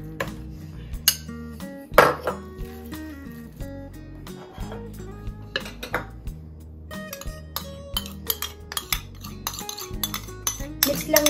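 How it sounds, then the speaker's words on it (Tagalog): A utensil clinks and scrapes against a bowl while wonton filling ingredients are mixed, in a repeated irregular rhythm heard close up over background music. "Umpisahan na natin ang ating pag-mix sa ating mga ingredients, ang wonton."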